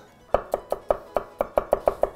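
A knife chops garlic on a board with about ten sharp, evenly spaced knocks, close and clear, while borscht made with moose meat is being prepared.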